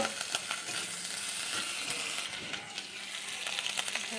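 Ginger-garlic paste and ground spices with browned chopped onion frying in a pan while being stirred, a steady close sizzle broken by light scraping and clinks of the spoon, with no talk.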